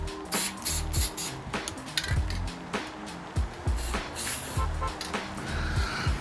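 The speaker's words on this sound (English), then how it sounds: "Weightlifting grease. We're gonna spray it on this." Short bursts of spray grease lubricant hissing during installation of an Invidia single-exit race exhaust on a Subaru WRX, repeated with mechanical clinks in a noisy garage.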